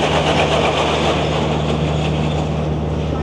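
A ride train on the Blackpool Pleasure Beach track runs in testing, a steady close rumble of wheels and motor with a constant low hum and no voices over it.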